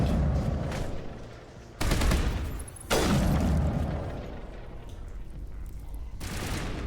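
Heavy gunfire in the video game Mass Effect, with loud sustained bursts crashing in around two, three and six seconds and a rumbling tail between them.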